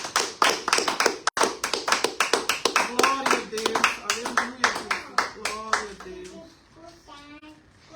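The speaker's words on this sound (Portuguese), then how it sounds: "bate palmas para o Senhor" A church congregation claps in a steady rhythm during a Portuguese-language worship service, the clapping loud and close with a voice and singing tones blending in toward the end.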